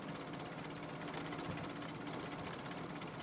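A tractor engine idles in the video game Farming Simulator 2013, a quiet, steady mechanical drone with a faint rhythmic knock, heard alone without talk.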